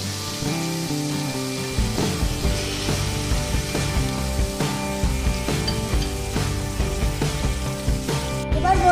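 Hilsa fish pieces added one by one to a pan of frying taro stolons, giving a steady sizzle with soft scraping and stirring sounds and occasional louder bumps.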